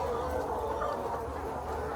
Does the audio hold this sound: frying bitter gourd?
no